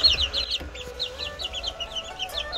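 Japanese Silkie hens in a new brooding pen, giving soft repeated clucks and chirps alongside their chicks, close by and fairly clear, with no talking.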